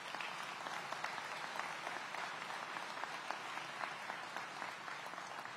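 Sustained applause from an audience at a city public safety event in Aurora, a dense, even patter of many hands clapping that continues steadily throughout, moderately distant with no voices over it.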